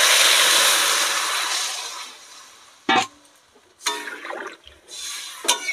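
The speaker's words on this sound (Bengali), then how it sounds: "এবার আমি জল দিয়ে দেবো।" Water poured into fried cumin-and-chili masala in a pan for a hilsa fish curry with potato and eggplant, starting as a loud broadband sizzling rush that fades, followed by a few short splashes and clatters.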